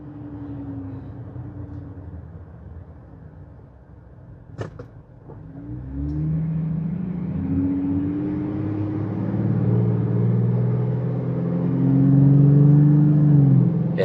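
A Jeep Gladiator Rubicon engine fitted with an aFe aftermarket intake idles and then revs up with a deep, throaty rumble, rising and falling as it accelerates, with a couple of brief clicks early on.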